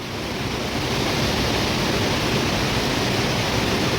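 Steady broadband rush of a river flowing below the Durga Devi temple in Kotdwar, constant and fairly loud, with no other sounds over it.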